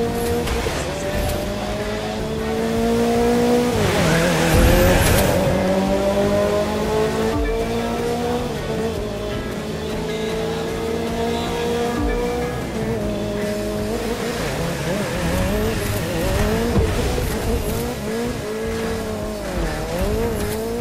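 Mazda MX-5 racing in The Crew 2, its engine revving loudly and continuously with rising and falling gear changes and brief tire squeal, the car accelerating hard throughout.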